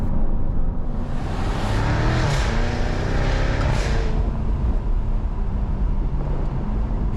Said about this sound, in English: the melody produced by the motor is breathtaking, and with the exhaust open and the top down, you better be prepared to lose hearing